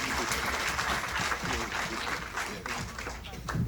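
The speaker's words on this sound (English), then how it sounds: "Give them a round of applause as well." An audience at an outdoor Ramayan in the Park event applauds, a dense sustained patter of clapping from a crowd over nearly four seconds, with voices mixed into it.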